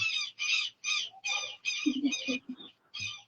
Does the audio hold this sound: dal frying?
no